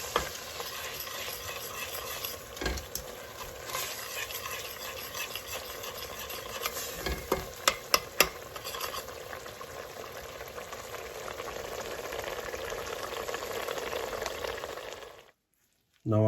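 Grated coconut with sugar and vanilla simmering in a pot, a soft continuous bubbling sizzle with occasional spoon scrapes and knocks, close but quiet, ending abruptly in silence.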